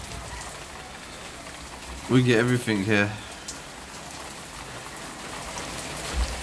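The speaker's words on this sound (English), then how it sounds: "Raining cats and dogs for a good few days." Heavy rain on a British July day falls as a steady, dense hiss throughout, while someone speaks briefly over it partway through.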